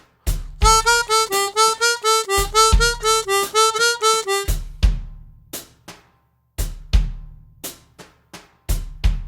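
Rapid, even chromatic harmonica notes in a slow blues in E, four to each beat, run over a steady drum groove before the drums carry on by themselves.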